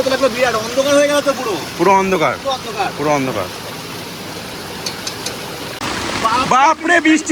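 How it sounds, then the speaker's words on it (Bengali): Heavy rain falls in a forest near a hidden waterfall, and flowing water adds a steady rushing wash beneath loud, close voices that talk at the start and end. "এক ঘন্টা ধরে বৃষ্টি হচ্ছে"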